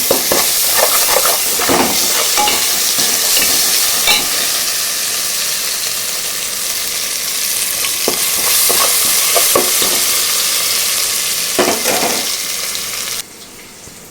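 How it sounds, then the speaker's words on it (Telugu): Ginger garlic paste frying with chicken in a pan, a loud close sizzle broken by repeated stirring scrapes, dropping suddenly quieter near the end, no voices. "ఇప్పుడు అల్లం వెల్లుల్లి పేస్ట్ వేసుకోవాలండి"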